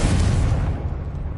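A fiery Confringo spell blast from the Hogwarts Legacy video game, heard as a loud, dense burst with a low rumble that holds for about a second before easing off.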